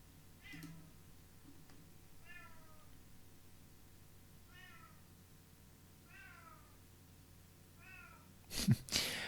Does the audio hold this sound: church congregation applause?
no